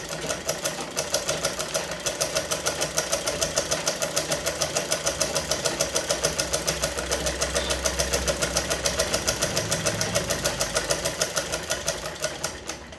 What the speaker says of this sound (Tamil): இங்கிட்டு வந்துட்டு இப்போ ரெண்டாவது போன ரூட்லேயே திருப்பி ஒரு ரெண்டாவது தையல் போடுறேன்.